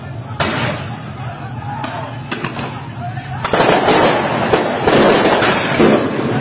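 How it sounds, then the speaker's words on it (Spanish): Rockets fired by police in Santa Cruz launch and burst in a string of sharp, irregular bangs and cracks, growing denser toward the end, with voices in the background. "¿Ve cómo disparan sus cohetes?"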